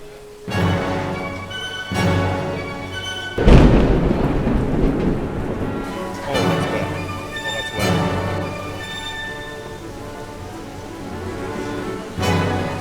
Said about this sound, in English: And then it started raining, and I mean like really raining